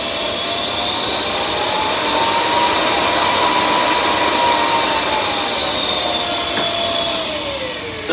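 A Wagner FLEXiO 4000 power sprayer blows air in a steady, loud whooshing drone with a whining tone that shifts slightly in pitch as the speed dial changes, close by and continuous.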